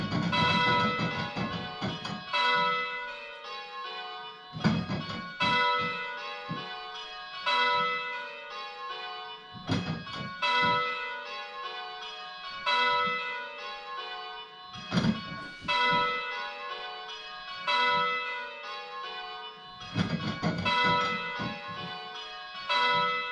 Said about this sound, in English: So we can go back to ringing 6 bells, but 6 bells maybe at a slower speed.